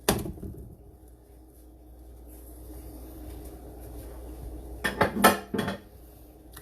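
A pancake pan is handled and shifted toward another pan, with a sharp metal clank at the start and a short burst of clattering pan and utensil knocks near the end, otherwise quiet.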